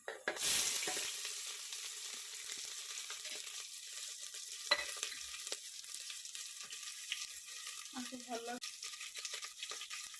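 Sliced onions drop into hot oil spiced with peppercorns and bay leaves for chicken biryani, giving a loud initial hiss that settles into a steady close sizzle with faint crackles, a few stirring scrapes and a brief voice.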